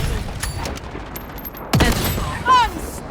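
Gunfire in the shooter game Blood Strike, a few sharp shots spread across a short burst of play, with players talking over the action.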